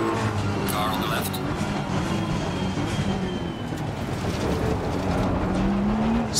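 A race car engine in the racing game Assetto Corsa Competizione roars loudly and steadily throughout, with tire and road noise mixed in and the pitch climbing near the end.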